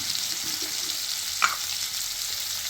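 Onion and green chillies frying in hot oil, a steady, even hiss with one brief clink of a utensil midway, close and moderately loud.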